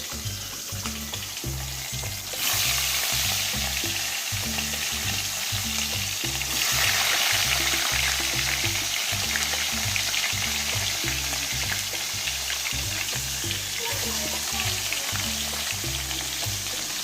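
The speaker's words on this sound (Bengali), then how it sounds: "দেখো মাছ ভাজা বসিয়ে দিচ্ছি আমি" Fish frying in hot oil in a wok in a home kitchen, a loud, close, continuous sizzle and crackle that swells slightly and holds steady throughout.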